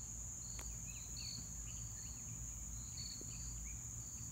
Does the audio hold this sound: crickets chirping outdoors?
yes